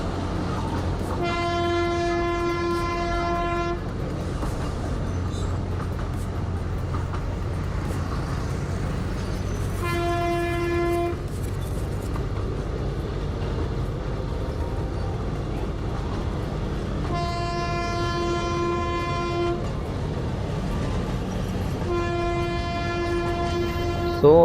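Darjeeling Himalayan Railway toy train running through the Himalayas, its rumble steady throughout while the horn sounds four times in long blasts, loud and near.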